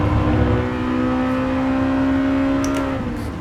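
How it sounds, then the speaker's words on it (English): A high-revving four-cylinder car engine in the racing game Gran Turismo Sport holds a steady, sustained whine at high RPM, loud and close, with the pitch easing slightly toward the end. "The high revving 4-cylinder"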